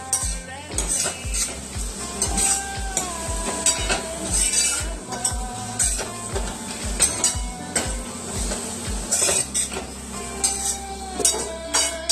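A spoon stirs sliced raw banana curry in a metal pan, scraping and clinking in a repeated rhythm over a steady low sizzle, close and fairly loud with no voices.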